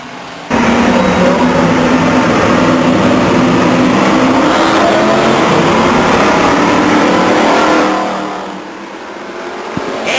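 Race car engines roar loudly together as a pack accelerates away at the green flag on the Stockton 99 Speedway oval, a dense continuous revving that fades slightly near the end.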